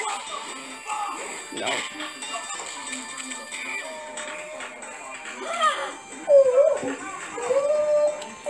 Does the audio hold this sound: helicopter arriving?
no